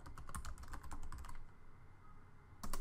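Rapid typing on a computer keyboard enters text content into a file at a Linux terminal, a quick run of close clicks, a brief pause, then a final cluster of keystrokes.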